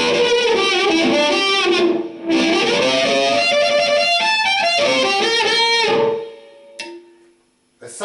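A harmonica played through a Dyna-Mic Firebird condenser microphone into an amp, sounding as loud, gritty, sustained bent notes and chords that drop out briefly near the middle and fade to near silence at the end.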